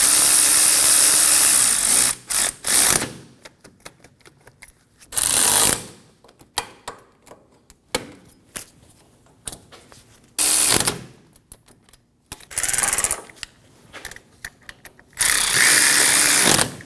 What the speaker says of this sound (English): Snug the bolts down in a cross pattern.